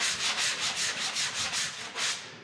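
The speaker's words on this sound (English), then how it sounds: "So let's try sanding this one." Rhythmic back-and-forth sanding of a drywall patch, about nine even scraping strokes, close and fairly loud, with no talking.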